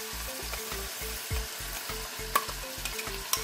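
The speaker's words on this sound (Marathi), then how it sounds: "आपला वाटलेला मसाला आता घालूया" Ground masala sautés in oil for a Karnataka-style vegetable sagoo, a soft sizzle beneath a regular thudding rhythm of stirring strokes, with a few sharp clinks toward the end.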